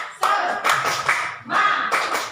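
A group of teachers and adults at a positive-discipline training session claps together in loud, close bursts, two rhythmic rounds separated by a brief pause, with no talking.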